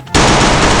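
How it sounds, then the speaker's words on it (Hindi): Loud, dense burst of video game gunfire snaps in abruptly and rattles on continuously for under a second, close and harsh with no voices. "वो वहाँ पे खड़ा होकर गोली चला रहे"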